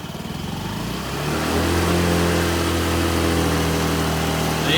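A scooter engine starts up and settles into a steady, loud, close idle with a low rumble that holds for several seconds.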